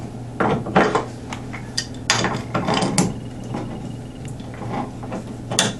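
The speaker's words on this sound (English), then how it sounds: "Then you want to take your adjustable wrench, put it on the hex," An adjustable wrench clanks and scrapes against a bathtub faucet hex while unscrewing it, giving irregular close metallic knocks and rattles in short clusters.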